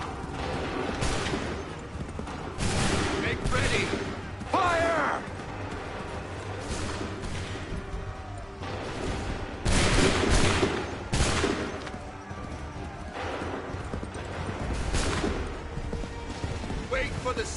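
Musket volleys in Assassin's Creed 3, several loud cracking blasts at irregular intervals with a rolling, dense fusillade, mixed with shouted commands and battle din.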